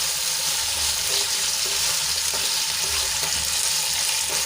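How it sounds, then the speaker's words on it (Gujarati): Okra stirred into hot oil in a pan over low flame, giving a steady, fairly loud sizzle with faint scraping stirs throughout and no talking. "હવે ભીંડાની એડ કર્યા બાદ આપણે તેલમાં સરસ રીતે એને મિક્સ કરી લઈશું।"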